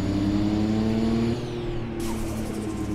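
Turbocharged Toyota Supra engine in the Roblox game Driving Empire drones with a steady, layered harmonic tone that shifts pitch midway, followed by a brief airy hiss as the boost releases. It plays alone, loud and close, with no talking.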